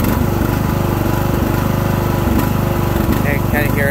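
A Briggs 15hp engine on a Craftsman hydrostatic riding mower runs loud and close at low RPM with a steady, throbbing chug that surges slightly.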